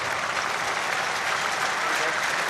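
Crowd at a Leinster versus Munster rugby semi-final applauding a player as he leaves the field, a steady, dense wash of clapping and cheering filling the stadium for the whole stretch without pause.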